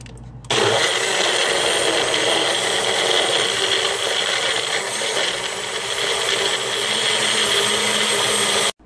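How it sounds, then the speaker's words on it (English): A kitchen blender runs steadily on a mixed fruit smoothie, a loud continuous whirring roar that starts abruptly, holds for about eight seconds, then cuts off. "take it over into a mixer and mix it up"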